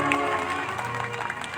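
Audience clapping at a Shrimad Bhagwat katha religious discourse in Kanpur, a dense, steady patter of many hands close by, sustained throughout without a pause.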